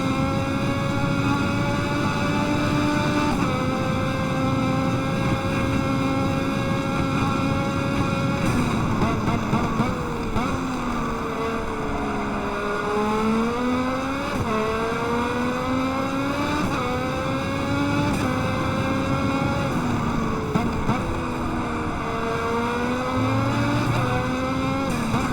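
Flat-crank race car engines revving to around 12,000 RPM in the Automobilista racing game, a loud continuous high-pitched scream that rises and falls through gear changes and braking, with the engine note dominating throughout.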